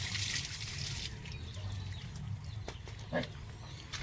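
Water from a hand pump splashes and trickles steadily against a low rumbling background, with a few faint drips and knocks, heard close.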